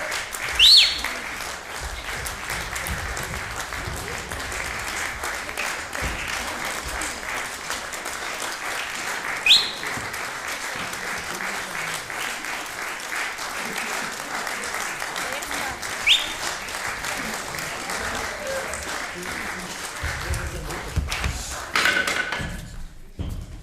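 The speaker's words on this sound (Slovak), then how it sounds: "vaše potlesky odovzdáme mojej manželke Helene" An audience at a live book-reading event applauds steadily and continuously, a dense wash of clapping with a few louder thumps, ending with a final burst.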